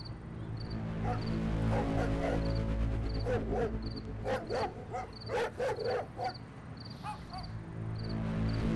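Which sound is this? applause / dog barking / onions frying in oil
dog barking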